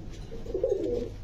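Pigeons of a fancy breed coo softly and steadily in a low, rounded burble that swells in the middle, close by with no talk.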